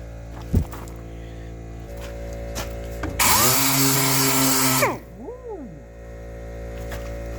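An air-powered sander on compressor air, working on a 1989 Ford F150 restoration, spins up into a loud broadband whir lasting under two seconds and then winds down. A quieter shop hum fills the background.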